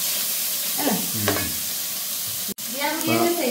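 Steady sizzling of curry leaves, onion, mustard seeds and fennel frying in hot oil for fish curry, close and bright, with stirring clinks and a brief dropout partway through.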